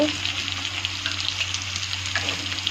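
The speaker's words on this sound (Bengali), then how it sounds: "ডালটাকে একটু ভালো করে ভেজে দেবো" Lentils frying in a pan, a dense continuous sizzle with a low steady hum underneath, close and fairly loud, no talking.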